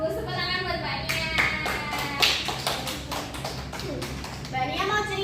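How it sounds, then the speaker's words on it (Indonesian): A group claps hands in a quick rhythmic burst of many sharp claps, with children's voices chattering before and after. "Tepuk tangan buat Mbak Nia."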